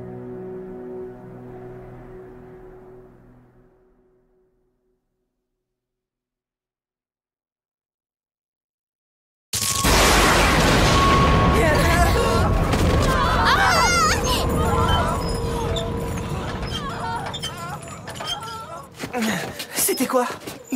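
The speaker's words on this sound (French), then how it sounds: "C'était quoi? Une explosion?" In an Attack on Titan anime episode, a deep boom bursts in after several seconds of near silence, followed by loud rumbling, crashing debris and commotion that trails off with scattered noises.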